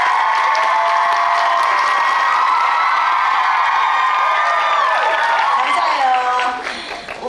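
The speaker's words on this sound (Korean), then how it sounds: "오빠도 아닌 언니한테 이렇게 소리 질러주셔서" An audience at the final-performance stage greeting of a Korean musical cheers and screams loudly in a sustained, high-pitched roar that dips and fades toward the end.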